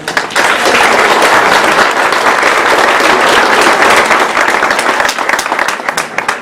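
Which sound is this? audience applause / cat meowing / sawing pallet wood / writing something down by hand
audience applause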